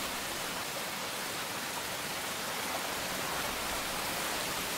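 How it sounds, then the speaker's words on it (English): Steady rain falling, a dense, even hiss of broadband noise that stays constant and fairly close throughout, with no voices over it. "Rain. Just a great weather for us fire types."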